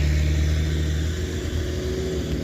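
Hino and Canter trucks strain to climb the steep Batu Jomba incline, a loud, steady low engine rumble and drone that holds throughout with no voices.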